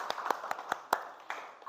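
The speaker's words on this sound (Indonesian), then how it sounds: "Selamat tepuk tangan untuk kelompok 2." Scattered claps from a classroom of students cheering a winning group during a lesson game, about six sharp separate hand claps spaced unevenly, fairly close and moderately loud over a quiet room.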